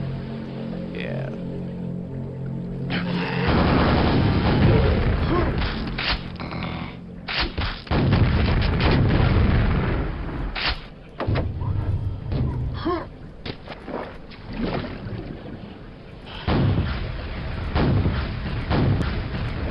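Rockets explode in Quake, the old first-person shooter: heavy booming blasts with rumbling low end arrive one after another, interspersed with weapon clanks and thuds over a continuous game ambience.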